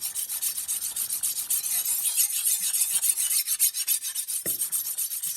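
A knife edge is drawn back and forth across a whetstone at an angle, giving a quiet, close, rhythmic series of gritty rasping strokes, about two per second, with a small tap near the end.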